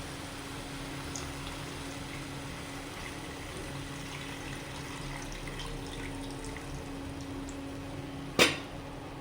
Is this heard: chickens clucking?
no